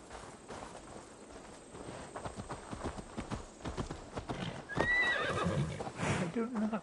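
A horse in Assassin's Creed Valhalla walks with clopping hooves that build up, then lets out a clear neigh near the end, with voices talking over the scene.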